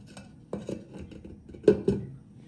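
A lid is set onto a container of milk, producing a few light metallic clinks and taps, the sharpest pair near the end, close and fairly quiet.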